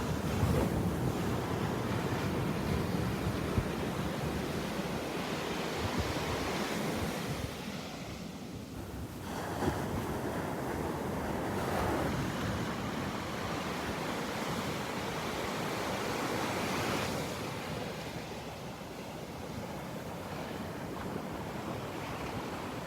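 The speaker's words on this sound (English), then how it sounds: "there's a sandbar or shoal of some sort where the waves are breaking out" Ocean waves break out on a sandbar or shoal off a beach preserve, a broad continuous roar of surf with slow swells and some wind buffeting the microphone, no voices.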